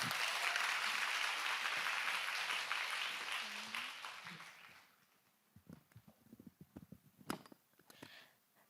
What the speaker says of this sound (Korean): 다시 한번 힘내시라고 큰 박수 부탁드릴게요.